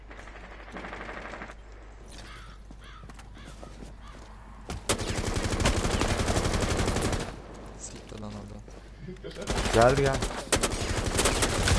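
Bursts of automatic gunfire crackle in Rainbow Six Siege, with a quieter opening stretch followed by loud sustained volleys and a final heavy burst, while players talk briefly over the shooting.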